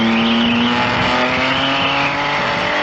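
A toy car in a Doraemon cartoon speeds along with a loud, steady high-pitched engine whine and tire hiss, sustained at close range with no pause.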